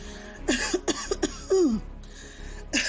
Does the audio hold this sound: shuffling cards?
no